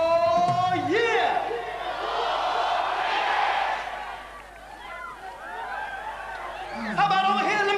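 A concert crowd at a 1992 show in Turkey shouts back in a loud massed roar, with a performer's amplified voice leading through a microphone before and after the surge of cheering.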